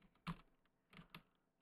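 A few quiet clicks on a computer keyboard, three distinct keystrokes spread over a moment, close and soft with no voice.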